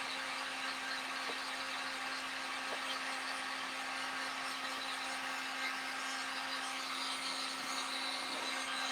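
A craft heat gun blows hot air over a drying heart filler for a dough bowl, a steady whirring hiss with a constant motor hum, even and unbroken.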